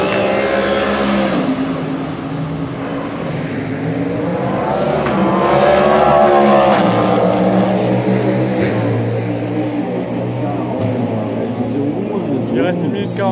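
A race car runs on track during free practice at the 24 Hours of Le Mans, its engine note rising and falling as it passes, under continuous French commentary.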